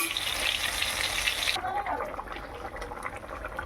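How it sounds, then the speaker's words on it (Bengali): Small fish fry in a pan with a bright, steady sizzle that drops sharply partway through, leaving quieter bubbling and faint kitchen clatter. "এখানে মাছ ভাজা হচ্ছে"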